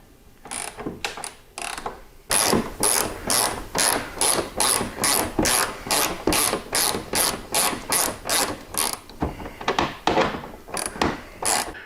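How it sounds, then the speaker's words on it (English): A ratchet fitted with a 1/2-inch socket tightens saddlebag bolts on a bagger motorcycle's saddlebag bar. The clicking comes up close in steady rhythmic bursts, one per swing, with a short pause partway through and no voices. "I got to get up under here with a 1/2-inch socket and get these snug down."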